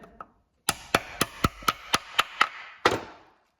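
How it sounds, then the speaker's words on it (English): Sharp metallic hammer strikes drive a part into a Getrag 420G gearbox in a quick, even series of about nine blows, followed after a short pause by one heavier final hit. "And then you just hammer it in."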